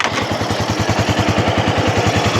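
A stock Kawasaki 250TR scrambler-style motorcycle idling close by, its single-cylinder engine thumping in a fast, even, steady rhythm with a metallic clatter on top.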